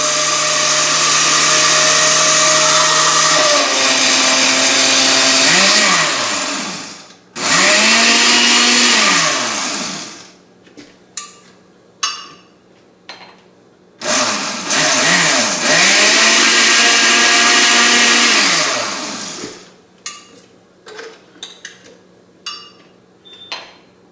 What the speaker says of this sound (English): it's a lot harder for the blender to break it up